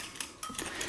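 A spoon stirs light brown sugar into a chicken curry sauce, making a few faint clinks and soft scrapes against the pot in under a second; no voice.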